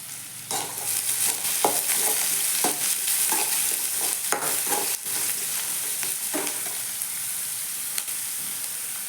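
Onions fry loudly in a pan with a constant sizzle, broken by a series of sharp spatula scrapes and stirs at irregular intervals, close by with no voices.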